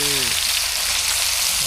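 Soybean vegetable sizzles and is stirred in a pot over a rustic wood-fired stove, a steady loud frying hiss throughout, with brief tonal voice fragments at the start and end.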